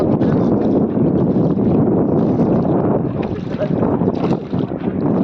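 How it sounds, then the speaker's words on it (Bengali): Boat moving on the water at Maithon Dam, with steady loud wind buffeting and water rush throughout, a continuous broadband roar with no clear speech. "আমার নৌকা এখন যাত্রা করছে"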